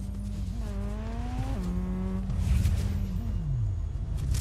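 A car in the Fortnite video game revs with rising and falling engine pitch, then lands off a ramp with a broad rough burst midway, the engine continuing loud and steady afterward.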